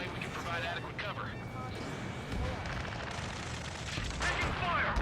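Bursts of rapid gunfire and combat noise in the flight game Ace Combat 7, continuous and busy under urgent radio chatter from voices talking throughout.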